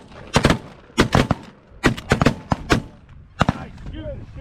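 Shotgun blasts during a goose hunt outdoors: a rapid volley of about ten loud, sharp reports in tight clusters, some close together and some overlapping, followed by fading echoes and a bird call.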